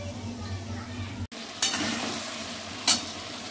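Meat frying and being stirred in oil, a loud close sizzle broken by a sudden brief gap, then bursts of stirring scrapes and crackle.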